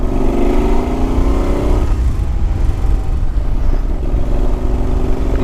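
Moto Guzzi Quota motorcycle engine on a test ride, a steady loud drone with a rising tone in the first two seconds, then a lower, rougher steady rumble mixed with road and wind noise.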